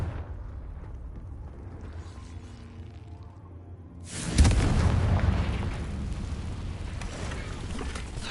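A Confringo blasting spell in Hogwarts Legacy goes off as a sudden booming explosion after a quieter stretch, followed by a heavy rumbling roar that keeps going.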